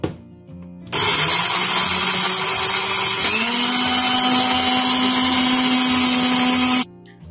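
An electric grinder pulverizes green cardamom pods for a home remedy soup, whining loudly and steadily for about six seconds after an abrupt start, its pitch shifting midway as the spice breaks down, then stopping sharply.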